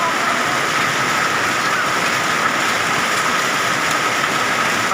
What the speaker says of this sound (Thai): พายุฤดูร้อนลูกเห็บนี่ครับลูกเห็บเต็มเลย